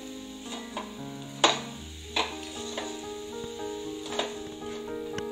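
Jaggery melts in a pan over a low flame while a spoon stirs it, giving a soft continuous sizzle with several sharp scrapes and taps of the spoon against the pan.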